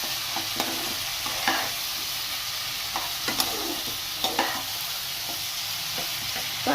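Chicken being stirred in a pan with turmeric, cumin and coriander powder. A steady frying sizzle runs underneath, broken by scattered scraping strokes of a spoon against the pan. No speech is heard.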